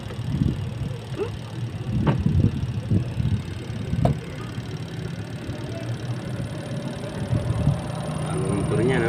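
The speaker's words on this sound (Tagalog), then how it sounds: "Ang motor niya, no?" A motorcycle engine running steadily at low revs, a mid-level mechanical hum with a few brief knocks, and someone talking over it throughout.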